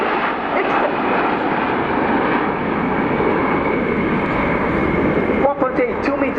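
Aermacchi MB-339 jets of the Frecce Tricolori aerobatic team roar past at low speed in a turn at an air show, a steady loud jet rush with a commentator talking over it.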